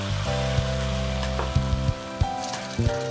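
Bean sprouts stir-fry in a hot wok for a Shaanxi noodle dish, giving a steady loud sizzle with scattered sharp clinks and scrapes of a spatula against the metal.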